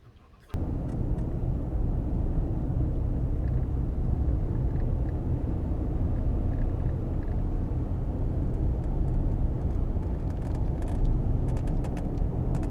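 A truck driving on a road gives a steady, loud low rumble of engine and tire noise that starts abruptly after a brief quiet moment and holds unchanged to the end, with no talking.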